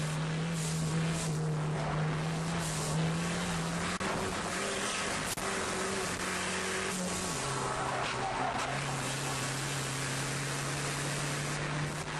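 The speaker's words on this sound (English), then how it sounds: "we're in car with Chittum on the start." In-car audio from a touring car at the green-flag start of a United States Touring Car Championship race: a loud, steady engine drone whose pitch holds, then steps up on each gear change, with wind and road roar throughout and no talk.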